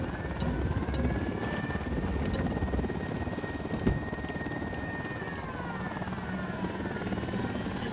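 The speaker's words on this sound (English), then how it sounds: "We got a chopper coming in." Helicopter approaching in the video game Ghost Recon Wildlands, a steady rotor thrum and whining engine drone that holds throughout at fairly strong level, with no voices.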